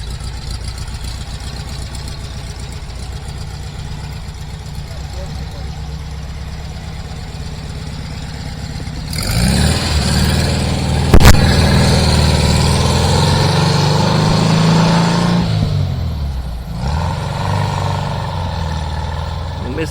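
Air-cooled engine of a 1970 Brazilian 23-window VW bus running steadily and close, growing louder and rougher midway as it revs, with a sharp knock, then settling back to an idle.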